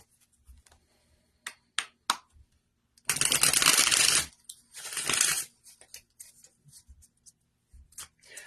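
Cards for a reading are shuffled up close: scattered clicks and taps, then two long riffling bursts, followed by more light card taps and flicks.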